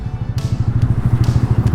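A Yamaha Aerox scooter engine riding through city traffic, a steady low pulsing drone close by with faint road rustle above it.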